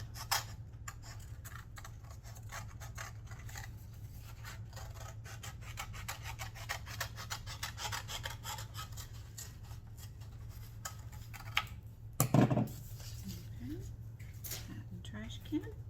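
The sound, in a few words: scissors cutting out a paper hat shape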